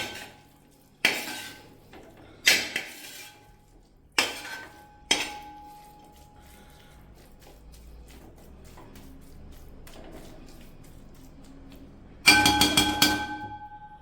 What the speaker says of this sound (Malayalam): അരപ്പ് ചേർത്ത് നന്നായിട്ടൊന്ന് മിക്സ് ചെയ്യുക